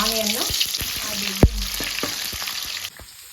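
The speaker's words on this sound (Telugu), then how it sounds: "ఆనియన్ ఫ్రై అయింది" Onion fries in hot oil for a vegetable sambar tempering, a close, loud sizzle with scattered stirring clicks and one sharp knock before the hiss drops off near the end.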